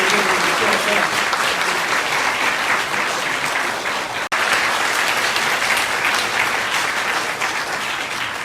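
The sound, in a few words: applause thanking the outgoing hospital director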